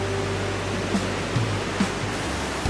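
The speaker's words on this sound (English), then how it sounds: "The sound of the flowing water was so relaxing that it cannot be described in words." Steady, broad rushing of flowing water from a waterfall, constant and fairly loud, with no voices.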